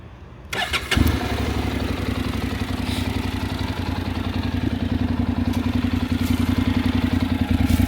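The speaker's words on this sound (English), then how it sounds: "turn on the bike and have you hear about the engine sound with the custom exhaust." A 2012 Honda NC700X engine with a custom stainless exhaust cranks and fires up, then settles into a loud, steady, throaty idle with a deep rumbling exhaust pulse.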